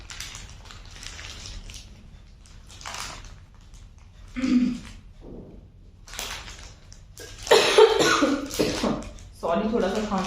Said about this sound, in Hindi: सॉरी, थोड़ा सा खांसी सी हो गई